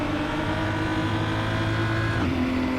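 BMW M235i race car in the Raceroom sim, a steady loud engine drone with a sustained whining tone that drops in pitch near the end as the car shifts or lifts off.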